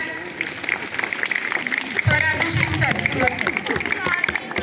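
Crowd applause for students at a Zilla Parishad school speech event, a steady broadband patter of many hands that swells louder about halfway through, with faint voices and murmuring mixed in.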